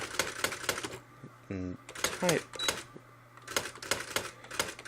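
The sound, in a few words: Brother electronic typewriter typing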